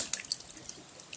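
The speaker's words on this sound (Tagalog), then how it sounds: "Tubig." Water drips and splashes during a trial run of a homemade ram pump, with faint irregular small drops and light trickling heard close by.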